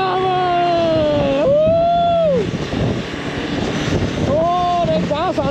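A KTM motorcycle engine, short on power, is revved at full throttle on a ride in Ireland, its pitch climbing and dropping in loud, close sweeps. A man gives a brief shout partway through.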